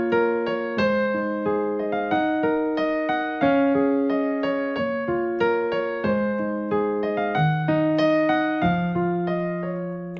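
Piano plays an easy arrangement of a song, a clear solo keyboard passage of repeated arpeggiated chords and sustained bass notes moving in a steady, unhurried rhythm, close and alone.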